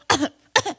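A person mimics an aging dog's sudden new cough during a church sermon, with two harsh, barking coughs close to the listener and separated by a short pause.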